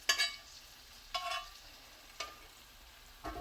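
Beef juice poured into a hot pan gives a faint, soft sizzle broken by a few brief scraping bursts, with no talking.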